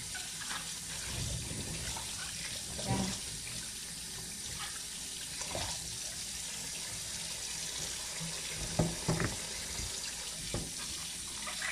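A tap runs steadily while fruit and vegetables are washed under it, a continuous rushing stream with soft splashes and occasional knocks of produce, no speech.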